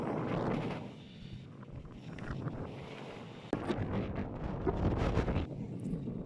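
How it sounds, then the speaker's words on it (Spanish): Strong wind roars and buffets the microphone at the Juan Rey viewpoint in Parque Entre Nubes, Bogotá, a steady dense rush with a sudden harder gust about halfway through, with no voices. "les voy a estar dejando el audio original para que sepan la magnitud del viento que hace en este lugar"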